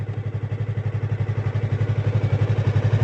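A motorcycle engine idles in first gear with the clutch held in, a close, steady low thrumming pulse that holds even and slightly swells.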